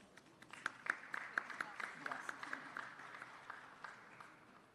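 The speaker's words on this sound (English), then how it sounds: "Let's welcome Her Excellency Ambassador Stella Nkomo with a loud round of applause" At the Invest Kerala Global Summit inauguration, an audience gives a round of applause as an ambassador comes on stage, quick scattered claps heard fairly faint and distant, thinning out toward the end.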